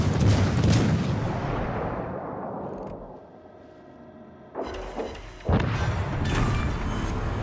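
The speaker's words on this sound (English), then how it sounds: "Enemy destroyer blown up" A loud, deep explosion booms as an enemy destroyer blows up in a naval video game, the rumble decaying over several seconds before fresh bursts of blast and crackling debris break out again.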